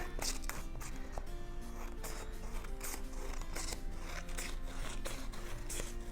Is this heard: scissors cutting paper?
yes